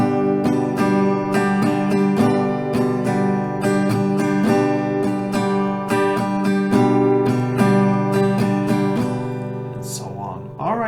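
Acoustic guitar strummed steadily in a down, down, up, down, up pattern, chords ringing loud and close for several rounds with no talking.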